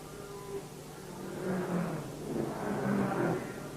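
A race car at the 1950 Indianapolis 500 pulls away from the pit after a fire was put out, its engine droning and rising in two broad swells, moderately loud over steady crowd and track noise.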